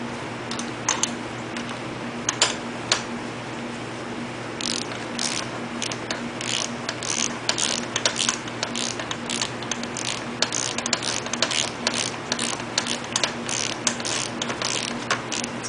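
A ratchet clicks in quick rapid bursts as a nut is worked onto a bolt on Honda CT90 brakes, with metallic taps and mechanical clatter repeating close by over a steady hum, no speech.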